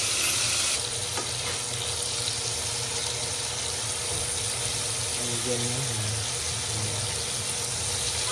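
Marinated chicken for adobo frying in a pan, a steady loud sizzle that continues throughout with a brief stir partway through.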